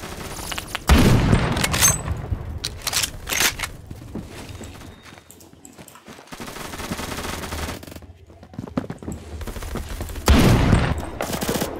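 Rapid automatic gunfire and bursts of shots in the Phantom Forces shooter game, loud and close, coming in dense volleys with short lulls between them, with no talk over them.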